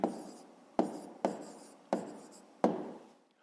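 Handwriting an answer on paper, five distinct pen or chalk strokes each starting with a sharp scratch that fades out, spaced irregularly under a second apart, close and fairly quiet with no talking.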